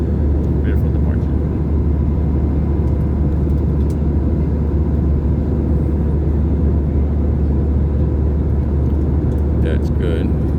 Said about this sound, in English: Great departure.